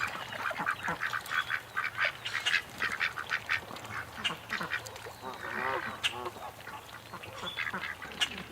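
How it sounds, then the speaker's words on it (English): A flock of ducks near a Canada goose quacks in a dense, busy chorus, the calls overlapping and fairly close, with occasional honk-like notes mixed in. "Oh, there's a whole bunch of ducks down there."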